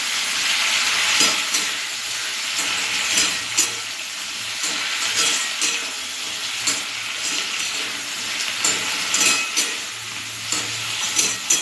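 Eggplant slices fry in hot oil in a pan for begun jhal, giving a steady, dense sizzle with occasional louder crackles and stirring scrapes over a faint low hum.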